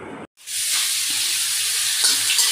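Pointed gourd frying in a pan: after a brief cut, a loud, steady, close sizzle of hot oil fills the clip, with faint stirring scrapes underneath.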